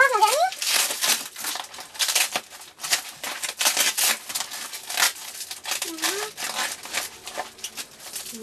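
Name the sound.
opening a Banggood parcel's packaging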